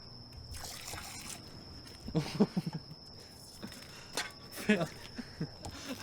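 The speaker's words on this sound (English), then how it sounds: "I think we might need a little more water, Harlan." Water trickles and splashes as it is poured into a mix. The sound is quiet and comes in short, uneven bursts, with people talking faintly in the background.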